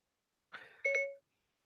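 Siri voice assistant activation beep on a phone, a short two-part electronic chime with a rising second tone, close and clean against silence.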